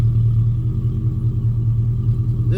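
Truck exhaust running through a Gibson muffler, a steady deep low rumble close by that holds even throughout, with a slight rise right at the end.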